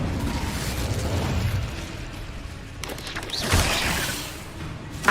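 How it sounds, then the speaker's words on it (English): An Incendio fire spell cast in Hogwarts Legacy gives a rushing, roaring burst of flame with crackling noise, swelling midway and ending in a sharp pop. "Incendio!"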